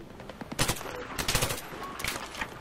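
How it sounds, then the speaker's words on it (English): Rapid bursts of gunfire in the video game Battlefield 3, several sharp loud volleys in quick succession with light talk underneath. "They're shooting at me."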